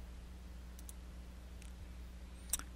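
Soft clicks of a computer mouse on a software dialog button during image editing, a few faint taps over a quiet hum, with one sharper click near the end.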